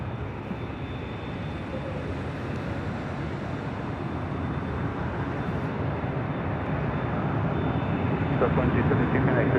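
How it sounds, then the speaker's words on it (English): A Delta Airlines Boeing 737-900ER jet arrives at LAX, its engine roar a steady broadband rumble that swells gradually louder toward the end, heard from a distance outdoors. "Next arrival is Delta Airlines Flight 1530 coming in from Seattle."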